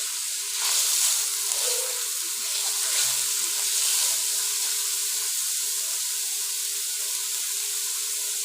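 Chopped onions sizzle in hot oil in a pan, a steady bright hiss that swells slightly near the start and then continues evenly at close range.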